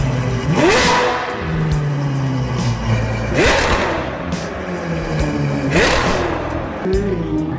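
A car engine revs up repeatedly in loud rising surges, settling between each, with a voice speaking under the engine noise.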